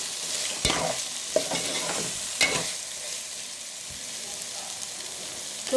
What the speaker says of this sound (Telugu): మటన్ ఫ్రై అవుతుంది. ఒకసారి కలుపుకుందాం అడగంటకుండా.